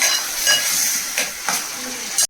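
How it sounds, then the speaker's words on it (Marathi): Curry base sautés in hot oil in a pan with a steady, loud sizzle, broken by a few scraping stirs, close up and with no voices. "आता हे छानपैकी परतून घ्यायचंय।"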